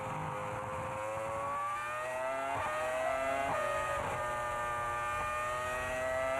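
Formula 1 Ferrari V10 engine at the 2004 Australian Grand Prix, a loud, continuous high-pitched wail with shifting revs as the car passes, heard alone without talk.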